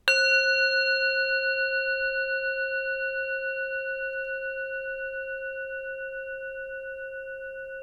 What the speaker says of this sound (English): I'm just going to give you a sound here because I love, you know, these Tibetan bowls